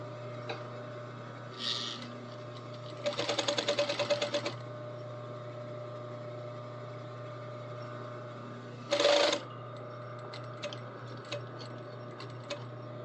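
Domestic sewing machine stitching an Edwardian collar seam with thread under the presser foot: two short bursts of rapid, even needle chatter over a steady low motor hum, with faint clicks and handling noises between them in a quiet room.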